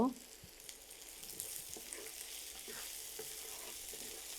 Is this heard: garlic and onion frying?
yes